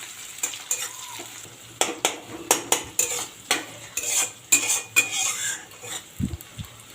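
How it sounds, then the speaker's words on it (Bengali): Onions with dried and green chillies fry in a pan, a soft sizzle beneath a rapid series of loud metallic scrapes and clanks from stirring, ending in a low thud. "পেঁয়াজটাকে ভালো করে ভেজে নেব।"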